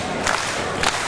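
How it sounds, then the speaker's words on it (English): Wrestling crowd at an EPW Australian Supershow match, with a steady roar of fans and two brief, louder bursts of shouting or chanting rising above the hall's noise. "Getting the EPW faithful into it, getting to their feet, chanting, clapping, making some noise"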